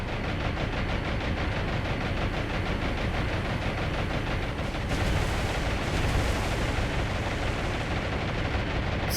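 Two 1,600-pound armour-piercing bombs explode in the War on the Sea naval combat game, a dense, continuous roar of blasts and rumbling that stays loud and close throughout, with no talk.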